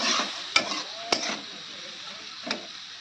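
Fish dusted with turmeric fries in a pan with a soft, steady sizzle. A few sharp scraping clacks from a stirring utensil punctuate the sizzle close up.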